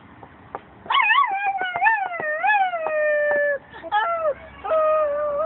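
A young child imitates a dog with rising and falling howls and whimpering yips, close and fairly loud, in a few bursts.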